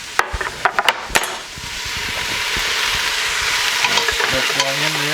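Rough-chopped turkey from a chub goes into a pan: a few clattering knocks and scrapes, then a loud, sustained frying sizzle with occasional stirring taps and a brief hum near the end.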